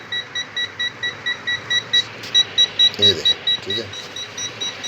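A multimeter on a DC current test gives a steady series of short repeated beeps at an even rhythm, close by, while someone talks over part of it.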